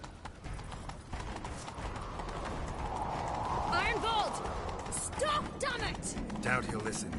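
Rapid hoofbeats of a galloping horse in the video game The Witcher 3: Wild Hunt clatter steadily, with a whinny and shouting voices mixed in over the pounding rhythm.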